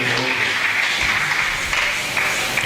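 A church congregation applauding in acclaim of the Lord, steady crowd clapping under a sustained musical tone and faint voices.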